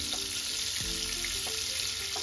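Chicken frying in oil and butter in a pan, a steady close sizzle with occasional stirring scrapes, no talking.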